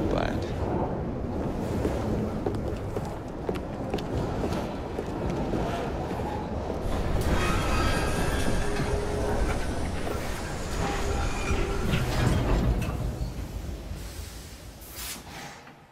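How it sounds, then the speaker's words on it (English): Steady rumble and clatter of a train rolling along rails in the video game Assassin's Creed Syndicate, a continuous loud mechanical roar with rattling wagons and occasional squeals, fading toward the end. "Oh well, at least we have a train now."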